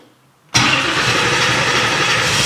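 A Factory Five 33 hot rod fitted with Holley EFI fires up after half a second of near silence, then settles into a loud, steady, rumbling idle close by.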